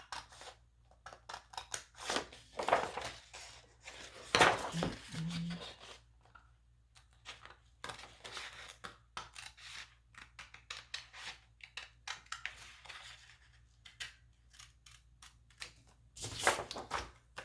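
Scissors snip through paper while cutting out a recipe template, a series of short, close cuts in bursts with pauses between them, with no talking.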